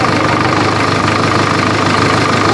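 A Sonalika tractor engine runs steadily at a field tractor competition, a loud, continuous low rumble with a constant drone and no break or pause.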